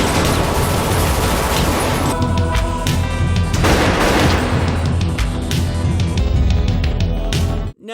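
Sustained gunfire from the action film Sudden Fury, dense volleys and fusillades with booming blasts and crashes under a music bed, loud and continuous before cutting off abruptly at the end.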